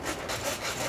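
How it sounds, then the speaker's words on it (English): Wood being shaped by hand, working a curve and chamfer on a waney-edge board for a cabin rebuild, a brief burst of rough, rhythmic rasping strokes, close and moderately quiet, with no talking. "I cut the bulk of the waste off, then file the curve"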